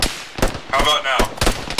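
Heavy machine gun fire in the Arma 3 military shooter game: several loud, sharp bursts of rapid shots with short gaps, close and punchy, with a brief ringing tail between volleys.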